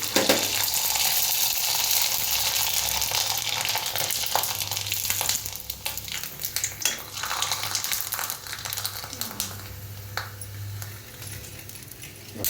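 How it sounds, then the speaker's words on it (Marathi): Sabudana and potato papad deep-frying in hot oil, a loud continuous sizzle and bubbling with occasional clinks and scrapes, settling into a calmer frying hiss toward the end. "जैसे गरम किया है, अभी इसको तल के दिखा देती हूँ"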